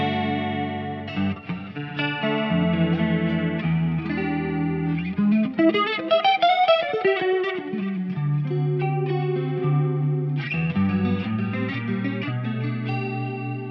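Electric guitar through a Boss CE-2W chorus pedal with the rate at full, sustained chords and a melodic run shimmering with a fast but smooth wobble, played close and steady with no talking.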